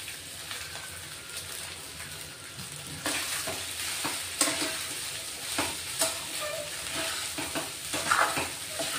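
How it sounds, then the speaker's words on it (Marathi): Salted sago pearls go into a hot pan for khichdi and are stirred, a loud continuous sizzle broken by repeated scraping strokes of the spatula, close up and without speech. "साबुदाणे टाकतोय, मीठ टाकलेले आपलं साबुदाण्यांमध्ये."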